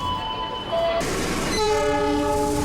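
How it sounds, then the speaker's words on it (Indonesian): Argo Semeru passenger train arriving at Yogyakarta station, sounding a loud sustained horn with shifting tones over the heavy rumble of rolling wheels, close by. "Akhirnya datang juga kereta api Argo Semeru yang aku naiki."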